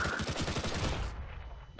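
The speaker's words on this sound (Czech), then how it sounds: "Simultánní výstřely." Rapid bursts of gunfire in Counter-Strike: Global Offensive, a dense fusillade of overlapping shots that fades out, followed by a brief sharp sound at the end.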